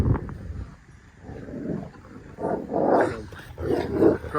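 Puppies growl while playing rough in a garden, giving off low, rumbling snarls and throaty grumbles in uneven bursts, close and fairly loud.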